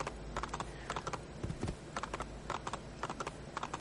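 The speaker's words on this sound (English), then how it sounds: "you don't have to travel to them on your horse like this" A horse's hooves clip-clop at a steady trotting rhythm in Assassin's Creed 2, a quick series of hollow knocks over low game ambience, quiet overall with no talking.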